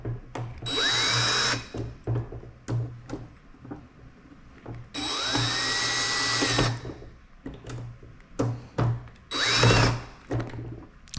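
Power drill tightening latch and hinge hardware on a Harley-Davidson King Tour Pack, three loud close bursts of whirring, each with rising pitch, separated by quieter clicks and handling noises.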